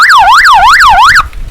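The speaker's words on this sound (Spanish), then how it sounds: "Luego está el de la sirena." A police and ambulance style horn unit sounds a loud, close siren tone that wails smoothly up and down through about three cycles, then cuts off abruptly into quiet background noise.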